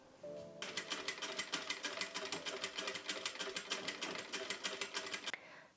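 A sewing machine stitching along the raw edge of a fabric strip, a fast, steady, close-up clatter running for about five seconds before stopping abruptly.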